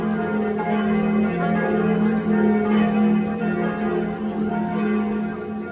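Church bells ring steadily in Munich with layered, sustained tones, a continuous peal heard from fairly close, with no voices.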